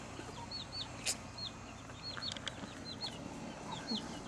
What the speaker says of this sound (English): Hey, beautiful rooster.